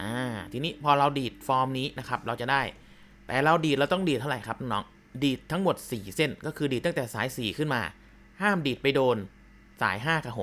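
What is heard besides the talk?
None of the usual background noises is heard.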